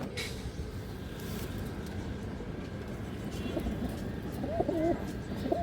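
A female pigeon coos softly in short repeated calls toward the end, faint against a steady ambient hum, with no voices present.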